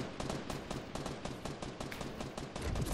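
Rapid automatic gunfire in an online shooter: dense, continuous bursts of sharp shots, fairly faint and steady throughout, with no talk over it.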